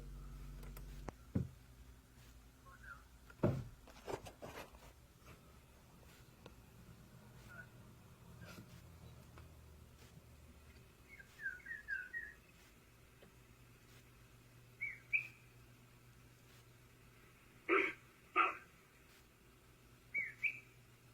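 Faint, scattered whistles sound at intervals in a quiet outdoor setting, short chirpy notes rising and falling, with occasional low rumbling in the background.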